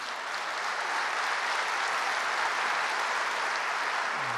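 Audience at a mayors' meeting breaks into steady, dense applause that holds loud and even throughout, with no voices over it.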